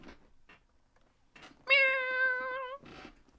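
A small black cat gives one long, loud, clear meow lasting about a second, close by, with faint voices and noises before and after it.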